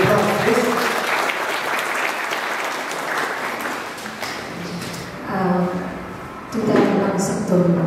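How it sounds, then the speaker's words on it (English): An audience at a felicitation ceremony for a civil services exam achiever applauds as a speaker is welcomed. The clapping is steady and fairly close, with voices and cheering rising above it in short bursts toward the end. "let's put our hearts in and our hands together for one and only Christina Sahams. Round of applause, please."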